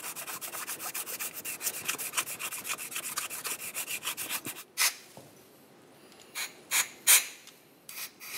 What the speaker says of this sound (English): you can just go ahead and use a flat sanding block for this with some sandpaper